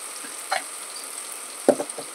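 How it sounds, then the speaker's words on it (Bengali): Chopped tomato with turmeric, chili powder and cumin powder fries in oil seasoned with turmeric and salt, giving a steady close sizzle broken by a few soft stirring knocks. "টমেটোটাও ভাজা হবে এই তেলে, হলুদ নুনের তেলে।"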